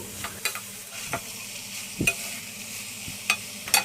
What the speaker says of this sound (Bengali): চালটাগুলো মশলার সাথে ভালো করে মিশিয়ে নিব